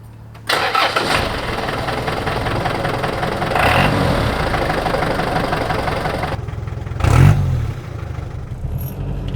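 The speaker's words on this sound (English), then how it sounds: "Diesels are much louder than gas" A loud diesel engine in a Jeep Cherokee XJ cranks over and starts, then settles into a steady, rough idle with a brief surge of revving near the end.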